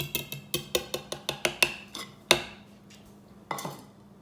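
A whisk and spatula work a flour mixture for pumpkin bread in a bowl: a quick run of about nine rhythmic taps against the side, then a few louder, spaced knocks, close by.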